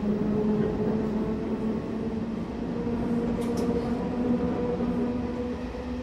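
An old Berlin S-Bahn train on the S25 line runs steadily in Train Simulator 2021, a constant rumbling hum with a faint motor whine and a brief higher squeak partway through.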